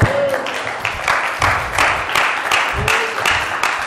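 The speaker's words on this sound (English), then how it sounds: "Clap your hands and say amen." Church congregation clapping hands during a sermon, a loud, uneven spread of claps and shouts from the pews filling the room, with voices calling out amid the clapping.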